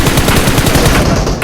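Gunfire in the mobile battle royale game BGMI, a loud rapid automatic burst of shots in a continuous stream, close and dominant throughout the brief moment.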